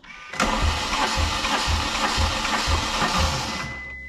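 A VW Polo Coupe engine cranks steadily on the starter during a compression test, a loud, even rhythmic churning that runs for several seconds without catching, then stops.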